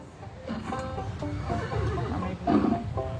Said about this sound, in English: So I put on the horse, and my horse is making this noise.